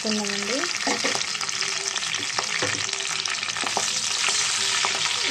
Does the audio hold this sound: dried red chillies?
yes